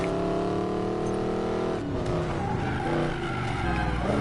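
A Koenigsegg Regera supercar in Need for Speed Payback on PS4 drones loudly at high speed with nitro, its engine tone climbing steadily before a brief drop and renewed surge, continuous throughout.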